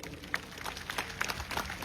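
Brief applause from an audience at a speech, a short burst of scattered clapping that is moderately loud and steady throughout, with no clear talking over it.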